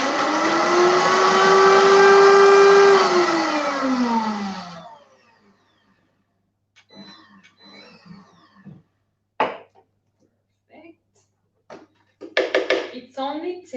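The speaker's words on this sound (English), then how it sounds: "give it another blend on the medium function." A blender runs loudly for a few seconds, its motor pitch rising and then easing, before stopping into near silence broken by small clatters.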